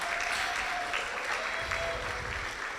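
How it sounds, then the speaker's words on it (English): Wedding reception guests applaud for the couple, a dense, steady wash of many hands clapping at close range, sustained without pause and with no voices rising above it. "give them a round of applause"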